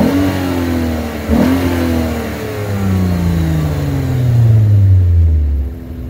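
A car engine revs sharply from a quick throttle blip, then the pitch slides steadily down as the revs fall. The engine sounds loud and close, with no voices over it.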